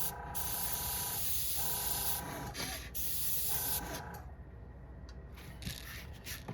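An airbrush hisses steadily as it sprays paint onto a sunset-colored jerkbait fishing lure, the airflow cutting in and out in long bursts with short pauses between passes, close and moderately quiet with no voices.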